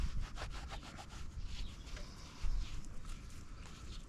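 A rag rubs briskly back and forth over the greasy nipple of a Cruisemaster DO35 caravan coupling, giving close, rhythmic scrubbing strokes with no voices.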